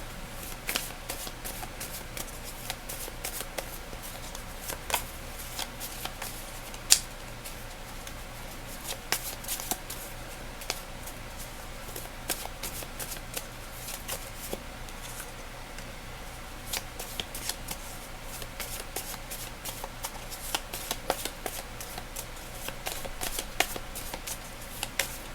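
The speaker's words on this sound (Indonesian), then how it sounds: "Sebelumnya kita tarik dulu kartunya, dan biasa sambil shuffle" Tarot cards being shuffled by hand, a soft continuous run of riffling and sliding taps that stays quiet and close throughout with no talking.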